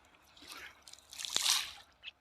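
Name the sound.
pouring sanitizer medicine into fish pond water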